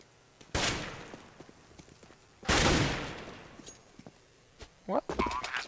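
AK rifle sprayed in Counter-Strike on the de_cobblestone map during an esports match, two long bursts of rapid gunfire, with shorter shots and game sounds following near the end.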